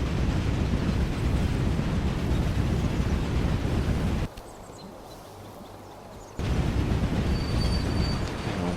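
A train rumbles along steadily in the Railway Empire game, loud and continuous rolling noise with wheel squeal, briefly dropping to a quieter hush for about two seconds before the full roar returns.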